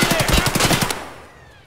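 Rapid automatic gunfire in the shooter game Escape from Tarkov, a loud burst of about a dozen close shots in quick rhythm, followed by a fading echo.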